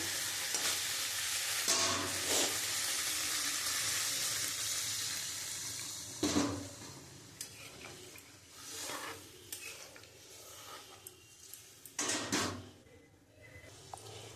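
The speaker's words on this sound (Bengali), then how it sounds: "এবার আমি পরিমাণ মতন জল দিয়ে দেবো" Water is poured into a pan of sautéed potato and soybean for an egg curry, setting off a loud hiss and sizzle at first. Stirring and scraping of the pan follow, with the bubbling settling into a quieter simmer.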